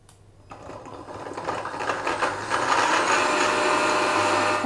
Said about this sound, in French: Et on mixe le tout pour obtenir une pâte.